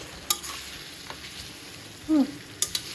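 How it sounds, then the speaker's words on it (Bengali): Cabbage frying in a pan in a home kitchen, a soft steady sizzle with a few sharp clinks of a utensil stirring against the pan. "যাই দেখি কি ভাবি বাঁধাকপি ভাজি করতেছে"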